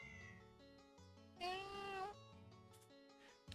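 A single drawn-out cat meow in a video game rises clearly over soft background music, loud and near, lasting under a second.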